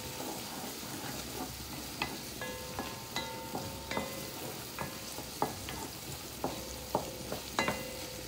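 Fresh garlic frying in a pan for Haitian salt fish sauce, a close continuous sizzle with scattered light clicks and taps of a utensil, no voices.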